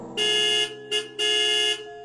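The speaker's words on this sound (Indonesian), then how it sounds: "Suara klakson yang nyaring membuyarkan suasana" A loud car horn honks three times, a long blast, a short toot, then another long blast, with no other sound around it.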